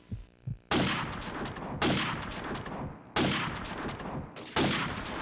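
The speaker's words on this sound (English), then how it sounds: "Not having too much luck on these wall bangs" Gunfire in Call of Duty 4 on the Factory map, bullets shot through walls: three loud, dense sustained bursts of automatic fire, each cutting off sharply, following a few faint soft thumps at the start.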